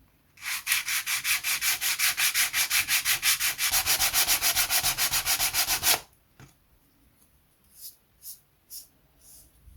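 Dried filler being sanded by hand in fast, even back-and-forth strokes, a loud, close rasp for about six seconds, then a few short scattered rubs.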